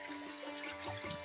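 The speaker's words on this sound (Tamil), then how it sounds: "ஆனால் தண்ணி ஓடுது" Spring water running steadily at the Sadaiyandi Siddhar temple spring in Salem, a soft continuous trickle and flow under a faint tonal hum, with no talk.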